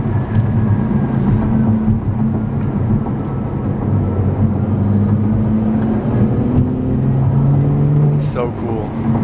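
A BMW engine fitted with an MST intake drones steadily and loudly throughout, a continuous close rumble that builds with boost at low RPM.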